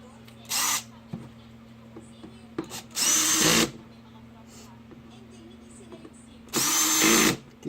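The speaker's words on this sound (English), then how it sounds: "if you're using one of these screw drills, make sure the torque setting is set real low" A cordless screw drill drives screws into plastic trim while replacing headlamp bulbs on a 2014 Maserati Ghibli SQ4, sounding three loud whirring bursts spaced apart over a quiet workshop background.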